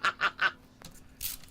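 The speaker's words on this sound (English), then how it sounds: "my kid came home with a blue screaming chicken" A blue screaming rubber chicken toy is squeezed three times in quick succession, giving sharp honking squawks, then a fainter wheezing squeal.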